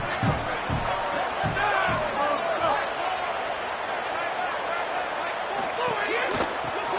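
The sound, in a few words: home crowd in the video game NCAA 27 football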